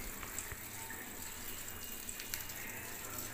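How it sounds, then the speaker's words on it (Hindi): An LG top-load fully automatic washing machine fills with hot water, producing a steady, soft rushing and trickling that continues at an even level, with faint splashes and no talking. "अब इसके अंदर गर्म पानी चल रहा है"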